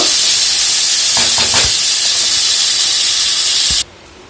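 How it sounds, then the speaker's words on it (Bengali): Fish fries in oil in a kadai, giving a loud, close, continuous sizzle with a few faint clatters near the middle before it drops off abruptly just before the end. "তো মাছটা আমি 2 পিঠ ভেজে নিয়েছি"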